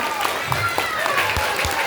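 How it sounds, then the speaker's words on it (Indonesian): Audience clapping at a Maulid Nabi religious lecture, a steady patter of applause running through the whole short stretch, with voices and chatter mixed in beneath it. "Tepuk tangan dong."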